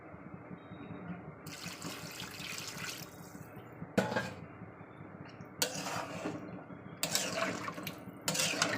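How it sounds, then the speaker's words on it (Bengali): Water is poured from a tap or jug into a pot of meat curry in several bursts, each a rushing splash separated by quieter bubbling and clinking of the pot. The sound is close, with no talking. "চলুন আরও একটু জল দিয়ে দেবো"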